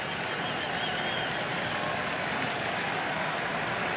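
Baseball stadium crowd at a Cubs at Brewers game, a steady, loud wash of cheering and clapping throughout with no break.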